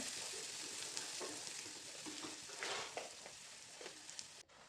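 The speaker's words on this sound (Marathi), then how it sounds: "कांदा परतून घेऊया ब्राऊन होईपर्यंत" Onion sautéing with cumin in hot oil until browning, for a cluster bean curry, a constant close sizzle broken by repeated stirring scrapes of a spoon against the pan.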